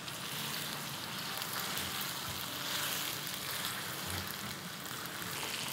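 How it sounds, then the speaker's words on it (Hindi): Chicken shallow-frying in oil in a karahi gives off a steady, even sizzle, a continuous close hiss with no talking. "मैं थोड़ा शैलो कर रही हूँ।"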